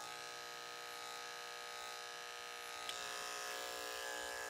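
A large electric hair clipper buzzes continuously and faintly during a classic pompadour haircut through the temple area, a steady whine with a slight shift partway.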